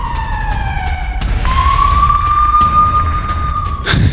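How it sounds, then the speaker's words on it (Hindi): An air raid siren wails at night in Tel Aviv during a missile attack from Iran, loud and close, its rising and falling tone sweeping and restarting over a rumbling background. "अचानक ही यहाँ पर सायरन बजा है"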